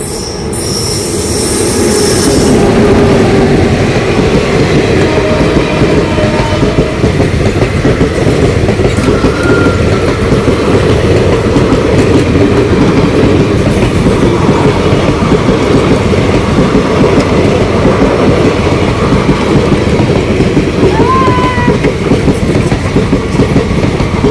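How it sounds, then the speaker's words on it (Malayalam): A train rumbles steadily past on the railway tracks at a crossing in Edava, loud and close, with rolling wheel noise and brief high squeals from the wheels. "ദൂരെ നിന്ന് ട്രെയിൻ വരുന്നുണ്ട് കേട്ടോ"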